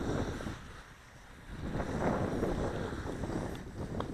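Air Hogs Thunder Trax RC vehicle running on water outdoors, a low, rough motor whir and splashing churn buried under heavy wind buffeting on the microphone, fairly faint and swelling slightly midway.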